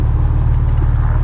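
A car engine rumbles steadily and close while driving around a bend, a constant low drone with no rise or break.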